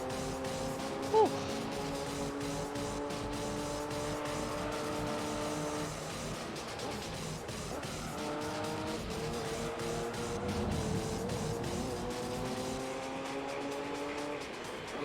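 The LMP Dragon race car from the video game Gran Turismo 3 drives continuously, its engine a steady high drone that climbs and drops with gear changes, with a brief skid or knock near the start.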